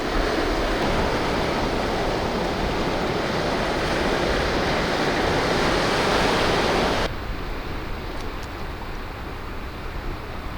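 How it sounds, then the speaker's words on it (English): Sea waves washing onto a beach by rocks, a steady broad roar of surf with wind that drops noticeably quieter partway through, no voices. "But just look at those waves,"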